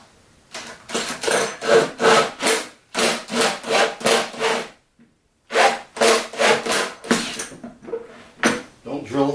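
Repeated rhythmic grinding strokes of a drill boring holes into wood, in steady bursts with a short pause midway, close by.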